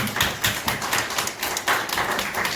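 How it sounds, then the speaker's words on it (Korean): A church congregation applauds during a worship service, a steady run of rhythmic hand claps filling the room for a few seconds with no voices over it. "여러분 하나님께 영광의 박수 올립시다"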